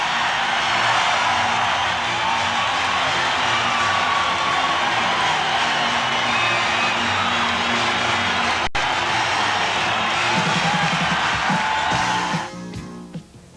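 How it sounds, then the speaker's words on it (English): A 1987 college basketball arena crowd roars and cheers continuously at halftime, a loud sustained wash of voices and whoops that drops off in the last second. "Listen to this crowd."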